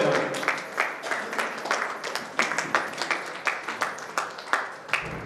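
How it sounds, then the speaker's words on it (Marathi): An audience claps to welcome a guest at a Dnyaneshwar Maharaj samadhi ceremony gathering in Bhusawal. The applause is a crowd of rhythmic, fairly even claps that repeat steadily for several seconds and fades into a lower sound at the end. "आपण सर्व भुसावळकर त्यांचं टाळ्या वाजवून स्वागत करूया."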